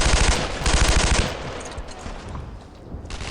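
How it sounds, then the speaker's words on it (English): Rapid machine gun fire from the World War II shooter Brothers in Arms: Earned in Blood, loud and fast for about a second, then fading into quieter scattered battle noise. "Rapid fire bullets just means you hit faster."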